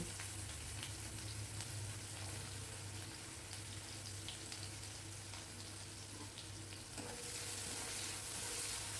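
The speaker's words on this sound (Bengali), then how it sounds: "দিয়ে ভালো করে নাড়িয়ে নিচ্ছি একটু লাল লাল করে ভেজে নেব" Garlic and onion frying in oil while stirred, a continuous dense sizzle with a steady low hum beneath and a slight swell near the end, heard alone without talk.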